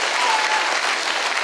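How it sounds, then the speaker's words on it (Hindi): An audience gives steady, loud applause with many hands clapping at once, continuing evenly throughout. "और एक जोरदार ताली महागुड़ी जी के लिए होनी चाहिए।"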